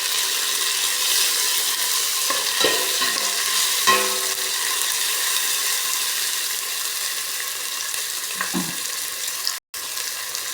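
Squid sautéed with cabbage and tomato in a pan gives a loud, continuous hiss of frying, with a few clunks and scrapes of stirring and a brief dropout near the end.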